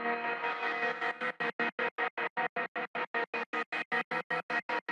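Trap beat in FL Studio with a 1-2 beat volume gate: a sustained distorted synth chord starts out steady, then is chopped into rapid, even stuttering pulses of about four per second, loud and alone.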